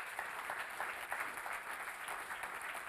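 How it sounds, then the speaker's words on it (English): Audience applause at a 2023 science park business incubator event welcoming startup founders on stage, a steady wash of many hands clapping at moderate distance, fairly quiet and continuous with no talk. "Welcome up, big applause."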